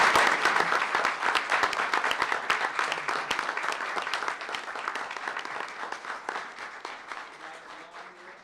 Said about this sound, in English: let us recognize them with applause